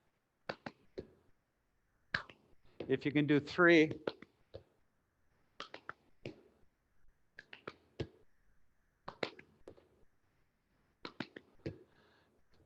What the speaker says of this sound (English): We're just clapping.